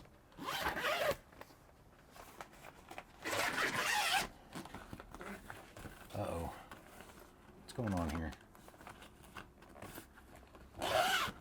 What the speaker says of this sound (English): These zippers are all backwards